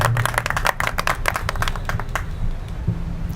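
Audience clapping at an Urdu mushaira as poetess Qurat ul Ain Aini is welcomed, a fairly close burst of individual claps that thins out toward the end.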